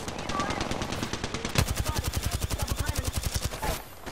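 Rapid automatic gunfire in a video game, a fast, evenly spaced burst of loud shots that runs for several seconds before stopping.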